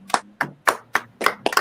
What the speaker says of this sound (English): let's give a big round of applause to our next guest, Brian.